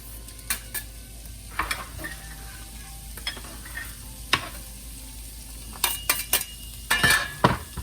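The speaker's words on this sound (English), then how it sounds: "I'm gonna add my onion and garlic to the pan" Onion and garlic hitting a pan of cooked ground beef for taco pasta, a steady frying hiss broken by scrapes and clinks from a utensil stirring against the pan, louder in a few bursts toward the end.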